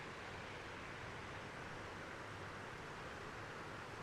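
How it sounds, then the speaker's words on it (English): Flowing water of Cascade Creek beside a rainy riverside campsite, a steady broadband rushing wash with no breaks and no voices. "Cascade Creek right there."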